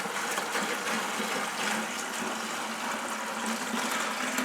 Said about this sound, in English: I'm going to fill around here with water